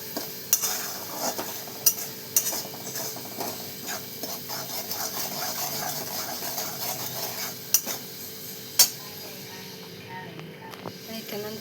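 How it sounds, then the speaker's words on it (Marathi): Onion masala with homemade spice mix and fresh coriander stirred in a pan for chicken masala, a steady soft scraping with faint sizzle and a few sharp spoon clicks against the pan, close and alone. "कोथिंबीर पडली, असं मस्त मिक्स करून घेणार"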